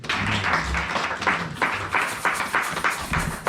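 A church congregation applauds, loud rhythmic clapping with bursts sustained throughout, close and dense, no talk over it.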